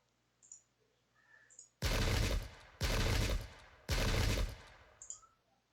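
Musket and cavalry gunfire in the Pike and Shot video game, three loud, dense volleys of rattling shots about a second apart, with faint clicks between them.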